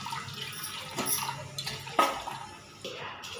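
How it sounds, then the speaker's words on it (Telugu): Water is poured into a bowl for green tea, with uneven splashing bursts and a couple of sharper pours against a quiet indoor background. "బౌల్లో వాటర్ పోస్తున్నా"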